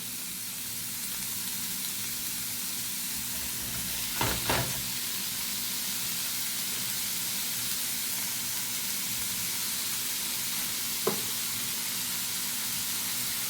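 Chorizo frying in a dry pan with no oil, a loud, continuous close sizzle and hiss over about fourteen seconds, broken by a short burst of scraping around the middle and a single clink later, no speech.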